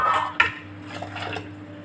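Washed lentils are dropped into a pot of boiling water, with a sharp metallic clink of the pot near the start, followed by soft splashing and bubbling.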